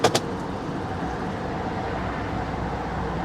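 A 325,000-mile Lincoln Navigator idles steadily with a low, even engine rumble, heard close after a couple of short knocks at the start, with no one talking.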